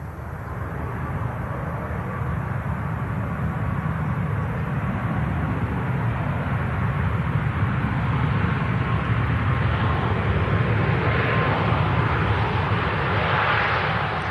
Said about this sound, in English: So Express 737 MAX 8 touching down runway 23 left, 23 right